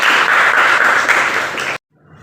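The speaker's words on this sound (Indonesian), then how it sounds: "Ya beri aplaus dulu untuk kelompok." A group of participants at a lecturer-certification training session claps steadily and densely for close to two seconds, then the applause cuts off abruptly into near silence.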